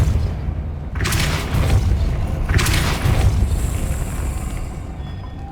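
Two booming spell blasts of Depulso, the force-pushing charm, go off at about a second apart in Hogwarts Legacy, each a loud whooshing burst over a rumbling game soundscape, followed by a lingering high shimmer.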